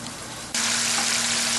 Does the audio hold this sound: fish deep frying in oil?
yes